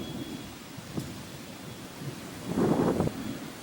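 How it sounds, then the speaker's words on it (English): Strong wind gusts roar through trees during a Texas thunderstorm, a steady low rushing broken by a brief gust near one second and a louder, fuller surge in the final second, with no voices. "Oh, that wind's coming strong right in my face."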